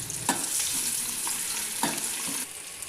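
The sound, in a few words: onions frying in oil for chicken biryani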